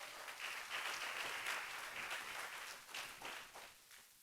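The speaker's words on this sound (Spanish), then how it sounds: "¿Le puede dar una ofrenda de palmas al Señor?" A church congregation claps together for a few seconds, a dense, fairly faint patter of many hands with no voices over it.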